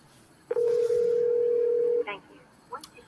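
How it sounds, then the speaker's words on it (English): An auto dialer starting a call on a phone line: a loud, steady dial tone holds for about a second and a half, then short dialing tone bursts follow. "to begin the dialing session, you need to dial that number"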